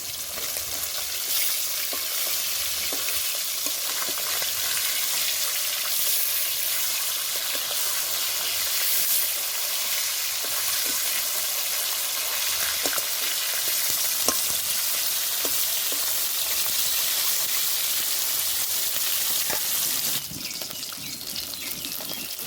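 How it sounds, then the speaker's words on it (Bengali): Pieces of rohu fish fry in hot oil in a pan, making a loud, continuous, crackling sizzle that holds steady for over twenty seconds and shifts slightly near the end, with no talk. "মাছ ভাজা হয়ে গেছে তুলে নেব"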